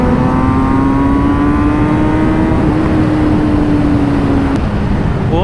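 A powerful superbike accelerates hard toward 200 km/h on a village road, its engine note climbing as a loud, continuous high-pitched whine over heavy wind rush.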